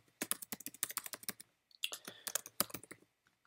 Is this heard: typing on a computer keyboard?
yes